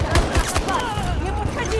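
Rapid gunfire bursts in a multiplayer shooter game, several quick sharp shots in close succession over a steady background din, with a voice briefly heard in the mix.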